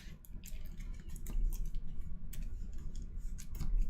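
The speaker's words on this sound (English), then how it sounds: "Shuffle everything up." Game cards from a DC deck-building game are shuffled close by, giving soft crisp riffling and snapping bursts in an irregular rhythm with no talking.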